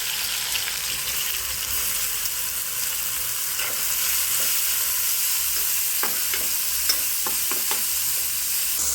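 Onion frying with ginger-garlic paste in a pan for an ivy gourd (tendli) dish: a constant sizzle underneath, then a cluster of quick spatula scrapes and taps toward the end.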